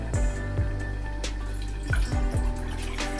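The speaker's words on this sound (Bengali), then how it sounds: "আমি এখানে একটা পাত্রে প্রথমে দিয়ে দেব 250 গ্রাম জল" Water splashing and trickling into a pot in a kitchen, about 250 grams poured for a Golbari-style mutton kosha recipe, with a few sharp drips and splashes over a steady running-water wash.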